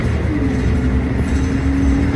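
Train in Houston, a loud, steady rumble of rolling rail cars heard up close, with a faint tonal whine running through it.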